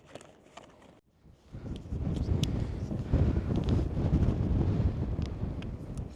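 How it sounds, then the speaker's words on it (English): After a brief quiet moment, heavy wind buffets the microphone on a Dartmoor hilltop, a loud steady rumble with gusty swells that continues to the end. "Oh, it is windy here up on this hill."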